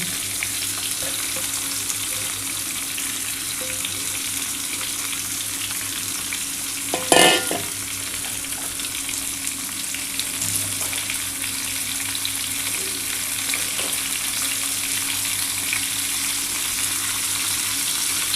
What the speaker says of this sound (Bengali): এগুলো একটু হালকা করে আগে প্রথমে ভেজে নিচ্ছি